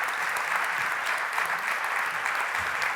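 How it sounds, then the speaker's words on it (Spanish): An audience gives steady, continuous applause to welcome a speaker at a talk about older women standing up to violence. "os pido un aplauso en esta ocasión para Mónica Ramos"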